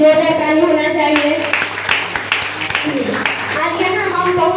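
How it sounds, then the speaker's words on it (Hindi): Applause for a teacher at a school achievers' gathering in Benipur, Darbhanga: a group claps steadily and fairly loudly, starting just after a voice speaks, with other voices continuing under the clapping. "आज उस सर के लिए भी जोरदार ताली होना चाहिए।"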